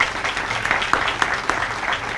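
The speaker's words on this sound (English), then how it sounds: "we give them a round of applause too" Audience applause at an outdoor lighting ceremony honoring correction officers, a steady close crowd clapping that holds evenly through the moment with no talk over it.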